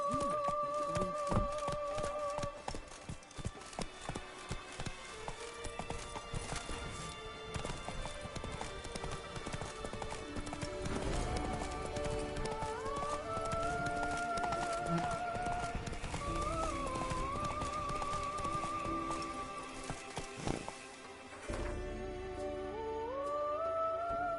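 Roach the horse gallops in The Witcher game, a steady clip-clop of hooves running throughout over music, with a brief whinny.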